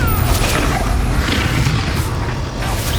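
Fiery Confringo spell blasts in the Hogwarts Legacy video game, a loud, continuous rumbling boom with crackling bursts filling the whole stretch, dense and close with no clear gaps.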